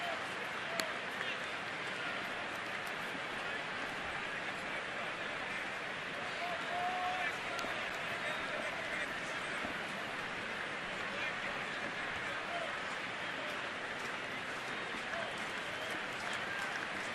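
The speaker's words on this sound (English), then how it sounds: "Crowd clapping for another 1-2-3." A baseball stadium crowd claps steadily throughout, a distant, even wash of applause under the rumble of the ballpark, with a broadcaster talking over it.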